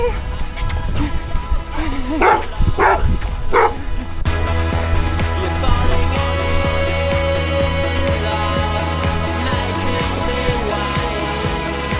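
A dog lets out a few sharp barks early on, then a steady droning background carries on without further barking.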